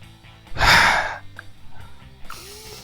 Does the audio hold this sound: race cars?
no